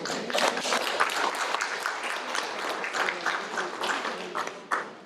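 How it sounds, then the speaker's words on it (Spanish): An audience at a talk on family and faith breaks into sustained applause, a steady wash of many hands clapping at moderate distance, with a few sharper claps standing out near the end. "Un aplauso para él."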